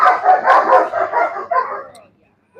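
A dog barks loudly and repeatedly at close range during bite work training, its vocal barks coming in a quick, uneven series before a short pause near the end.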